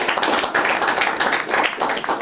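A crowd claps steadily at an event welcoming volleyball setter Matteo Pedron of Tonazzo Padova, a dense, fairly close patter of many hands with no pauses.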